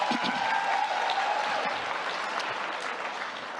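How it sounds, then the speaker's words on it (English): Sustained applause from an audience at a product launch expo, a dense wash of clapping that holds steady and slowly fades near the end. "do give him a round of applause"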